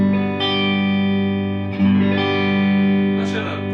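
A Fender Deluxe Powerhouse Stratocaster electric guitar with delay engaged rings out in sustained chords, each strum trailed by echoing repeats, played fairly loud at room volume.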